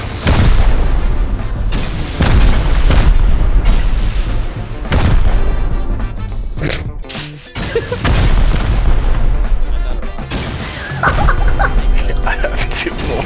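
Repeated rocket explosions boom heavily in the survival video game Rust, loud deep blasts arriving in several waves with brief lulls between them, while players talk over the barrage.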